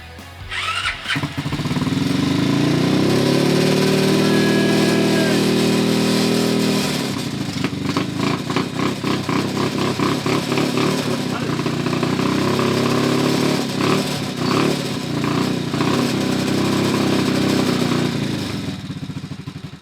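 A small 140cc motorcycle engine, upgraded from 70cc, sputters to life, then settles into a steady, slightly uneven idle that runs close and loud for the rest of the clip.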